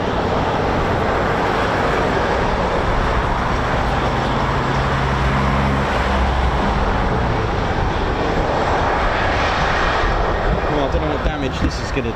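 A KC-135 Stratotanker jet with CFM International engines roars loud and steady throughout, its broad engine noise filling the scene at close range while a voice talks underneath.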